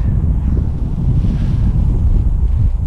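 Gusty Santa Ana wind of 20 mph and more at a local park roars and buffets the microphone in a loud, continuous rumble while a kite is flown, with no talk.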